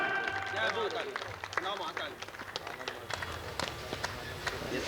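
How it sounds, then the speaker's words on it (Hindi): Audience applause at a Hindi poetry gathering (kavi sammelan) held by a civic council, with scattered claps and crowd noise filling the hall and voices and tonal sounds over them. "एक अच्छे कवि को आमंत्रित कीजिए घनघोर तालियों के साथ।"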